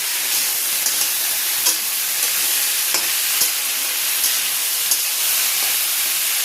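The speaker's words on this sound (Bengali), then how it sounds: "আলু ভাজা ফুটে থাকো" Potato fry (aloo bhaja) sizzles in a pan on a home stove, a steady close hiss of frying with faint occasional crackles and no talking.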